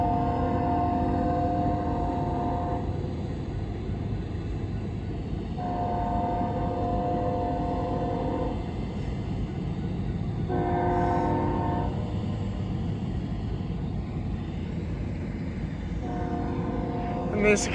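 A train horn sounds in several long, tonal blasts at night over a steady rumble of rail cars, with the horn repeating at intervals as the train approaches.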